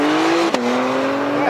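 A Honda NSX at a time-attack event holds a steady engine tone, then a sharp break cuts in and the tone carries on without a pause.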